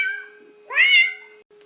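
A person imitates a cat's meow, producing a single drawn-out, rising-and-falling mew that is clear and close, with no other talk.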